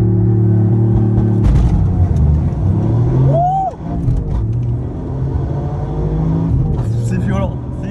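Toyota Yaris GR stage 3 accelerating hard uphill, a loud close engine roar rising and pulling through gears with a brief shift dip, over steady interior rumble and voices talking.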